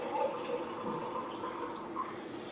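Water pours steadily into a portable alkaline steel water jug, a continuous soft splashing stream at close range with no talk over it.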